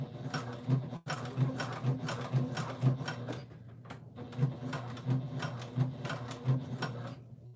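A sewing machine stitches thick backpack fabric, running in a steady, rapid mechanical chatter with a regular rhythmic pulse, close and prominent, pausing briefly near the start and again midway.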